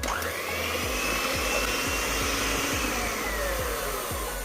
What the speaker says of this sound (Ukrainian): Збиваємо до тих пір, поки розтане цукор.